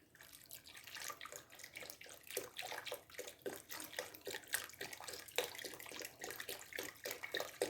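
Homemade broth for a Louisiana seafood gumbo pours from a carton into a pot, a close, continuous gurgling splash with uneven glugging pulses throughout.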